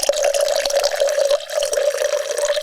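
Wine pours into a glass close by in one continuous stream, with a ringing, gurgling tone that rises slightly as the glass fills.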